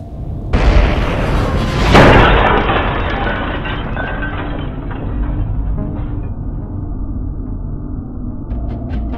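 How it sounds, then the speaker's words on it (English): A handgun fires and the round strikes a ceramic plate, giving a loud burst followed by a second sharp crack and a long fading rumble and ringing tail. "we're gonna shoot a ceramic plate and try to hit it dead center"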